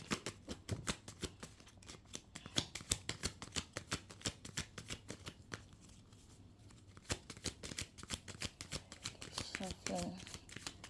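Cards are shuffled in quick, repeated riffling bursts, close and crisp, continuing with brief pauses throughout.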